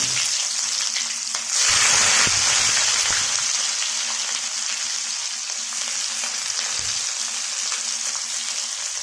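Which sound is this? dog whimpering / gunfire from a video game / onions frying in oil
onions frying in oil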